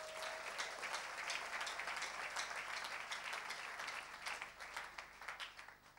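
A church congregation applauding during a sermon, a steady, somewhat distant patter of many hands clapping that continues throughout and thins slightly toward the end.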